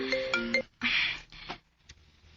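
Phone ringtone for an incoming call, a short electronic melodic chime of a few bright notes, close and clear with brief pauses and no talk.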